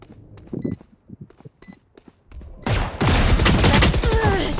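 Rapid gunfire from the video game Valorant, loud and dense bursts filling the last half after quieter game sounds and brief tones, with faint talk early on.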